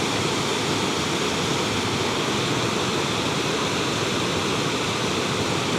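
Swirling, rushing water at Gardener Falls waterfall, a loud steady broadband roar that stays constant throughout with no voices.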